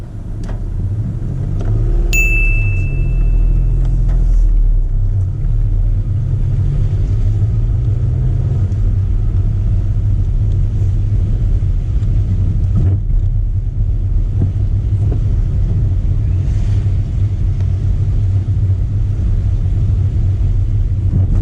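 A car pulls away at the start of a driving test: a steady low engine rumble with a brief high beep near the start, continuing evenly and close, with wind noise and no talking.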